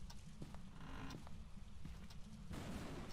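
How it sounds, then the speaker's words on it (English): A door creaks slowly in the Phasmophobia ghost-hunting game, a drawn-out, strained creak with faint clicks and knocks, quiet and alone without talk. "I hear a lot of doors opening and closing."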